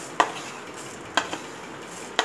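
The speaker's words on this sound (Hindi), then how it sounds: "इस तरह से पहले गैस को ऑन करना है और हमने ये मेथी दाने को हल्का सा भूनना है।" Fenugreek seeds dry-roasting in a pan on a gas stove over low heat, with three sharp metallic scrapes of a spoon stirring them against a faint background hiss.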